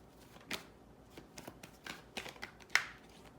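A deck of tarot cards being shuffled by hand, a series of soft riffling and slapping bursts at close range with a sharper snap near the end, no talking.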